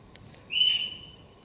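A single fox call at night in a winter forest campsite, one drawn-out high-pitched cry lasting under half a second, fairly close and alone against quiet background.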